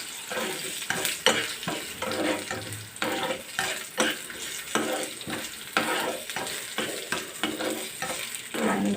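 Mustard seeds crackle and pop in hot oil with cumin for a raw mango coconut chutney tempering, a close busy sizzle of rapid, irregular sharp pops and spoon scrapes throughout.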